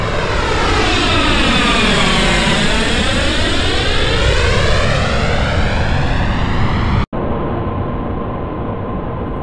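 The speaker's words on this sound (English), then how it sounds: "the plane is simply flying overhead at a constant height in the center of the stereo field" A simulated airplane passes overhead at constant height and high speed, rendered by a spatial audio plugin: a loud, sustained engine roar with sweeping comb-like tones that cuts off abruptly, leaving a quieter filtered drone.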